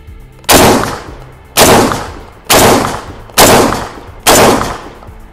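Five loud, sharp shotgun blasts from a Kral Arms Tavor-style bullpup shotgun fired at a target at a shooting range, spaced about a second apart, each with a long ringing decay and no talk between them.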